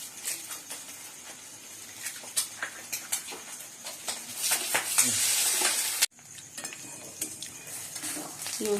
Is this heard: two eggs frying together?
yes